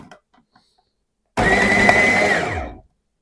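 An MPM MRK-17 blender chops boiled potato in a single loud, steady motor whir lasting about a second and a half, starting abruptly and winding down at the end, with no talk over it.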